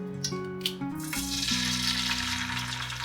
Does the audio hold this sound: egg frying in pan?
yes